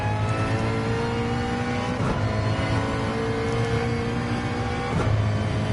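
Race car in a PS4 racing video game powering out of a tight right-hand corner, engine note droning loudly and steadily with brief gear-shift dips, no voices over it.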